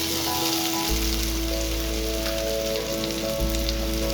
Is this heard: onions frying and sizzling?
yes